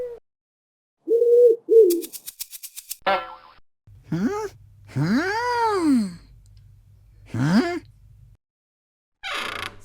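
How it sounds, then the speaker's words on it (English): A pigeon cooing in a cartoon-style children's animal sequence, several swooping, rising-and-falling coos in separate bursts, loud and close among bright boing and pop effects. "Pigeon!"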